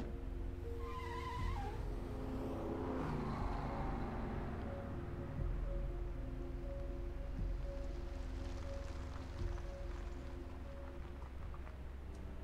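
Car in Family Mysteries 3, a steady engine drone with a brief tire squeal near the start, continuous and fairly close under a faint tonal music bed, no talk.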